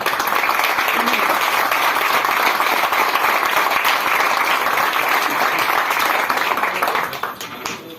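A church congregation applauds to God at the close of a prayer, producing a sustained, loud, even wash of clapping that fades slightly in the final second.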